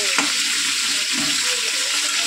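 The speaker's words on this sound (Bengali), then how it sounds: "তো বন্ধু আলুটা ভাজা হোক।" Potatoes fry in a pan with a dense, loud, continuous sizzle that holds steady and close for the whole stretch, and no voices cut in.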